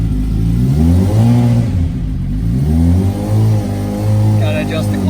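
A Yamaha ATV buggy fitted with a GSXR motorcycle engine revs hard and accelerates nearby, its pitch rising in repeated surges. Voices speak over the engine.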